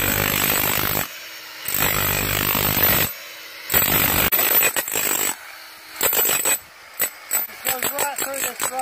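A heavy demolition hammer breaking rock pounds in loud bursts, stopping and starting repeatedly, with short pauses between runs and a rattling, gritty impact texture.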